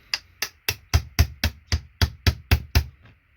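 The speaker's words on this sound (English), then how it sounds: "Tap the hammer as well, isn't it?" A hammer taps a chisel to knock components off a board, eleven sharp, evenly spaced metallic strikes in quick succession, loud and close, with no talk.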